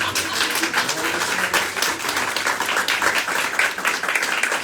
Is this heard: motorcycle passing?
no